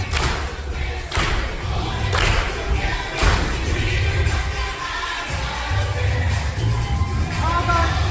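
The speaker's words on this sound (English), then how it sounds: "And claps." Dancers clap during a finale routine, with several sharp thuds standing out over a steady bed of crowd noise and shouting.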